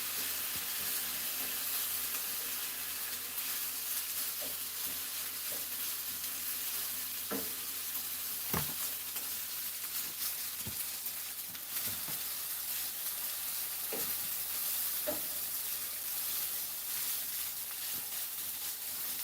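Teriyaki sauce sizzles and glazes in a hot pan as it is stirred, a continuous close frying hiss broken by occasional scraping clicks from the utensil, with no talk.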